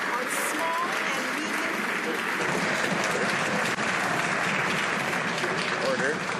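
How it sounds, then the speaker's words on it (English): Applause fills the House of Commons chamber, a dense, sustained roar of many hands clapping with members' voices murmuring underneath throughout. "I'd ask members to hold off on their applause until the members finished asking the question."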